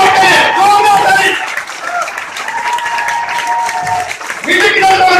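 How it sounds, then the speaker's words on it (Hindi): Loud, sustained applause from an audience at a business meeting, dense clapping that swells, dips slightly midway and rises again, with voices and cheering mixed in. "जोरदार ताली"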